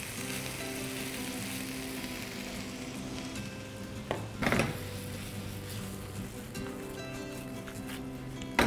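Brinjal chutney made with pulp, a dash of water and sugar sizzles steadily in a pan, with a brief clatter halfway through as it is tossed.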